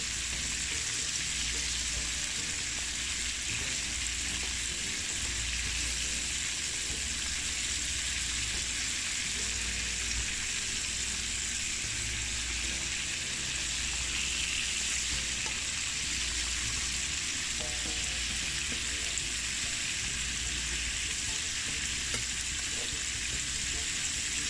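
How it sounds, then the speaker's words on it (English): Jamaican jerk chicken wings fry in hot oil, a steady, close, unbroken sizzle and crackle that continues for the whole stretch, with occasional faint speech underneath. "we're gonna fry up these"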